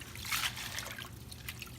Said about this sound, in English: take a handful, shake off the excess water, and move them to the pan